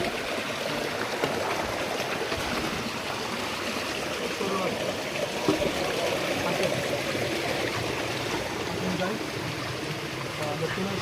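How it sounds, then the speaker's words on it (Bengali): A waterfall-fed stream rushes in a steady, unbroken wash of water noise close by, with faint voices talking in the background. "ঝর্ণার শব্দ শুনেন"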